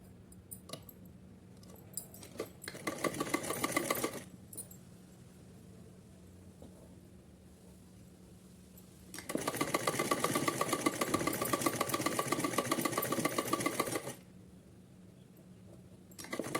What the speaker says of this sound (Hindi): सीधी तरफ फोल्ड करने के बाद एक सिलाई लगाएंगे इसके ऊपर